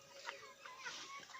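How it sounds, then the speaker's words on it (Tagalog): Two roosters after a cockfight, clucking and calling in short bursts at moderate distance, with a steady hiss of outdoor background noise. "Dalawa kong tandang."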